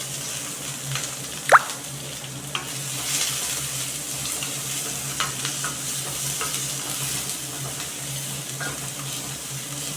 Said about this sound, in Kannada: ಈರುಳ್ಳಿ ಹಾಕ್ತಾಯಿದ್ದೀನಿ